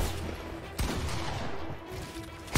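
Gunfire in the Fortnite video game: a sharp, loud shot cracks out, then rapid bursts of fire follow, with another shot starting at the very end.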